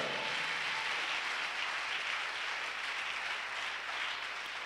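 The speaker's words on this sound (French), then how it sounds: "Oh, give the Lord a big clap offering" A church congregation applauds the Lord during a Sunday worship service, a dense, continuous wash of clapping that holds at a steady level throughout.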